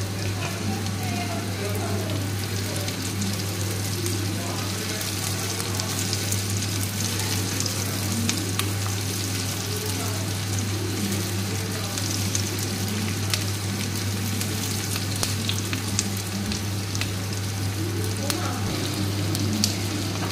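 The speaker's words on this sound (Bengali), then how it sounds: "পেঁয়াজটা একটু লাল করে ভেজে নেব।" Onion frying in oil for egg curry, a steady soft sizzle and crackle with a constant low hum beneath it, unbroken for the whole stretch.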